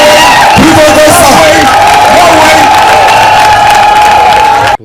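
A crowd at a PDCI-RDA political ceremony in Yopougon presenting a candidate to chiefs cheers, whoops and applauds loudly and continuously, with voices shouting within the din.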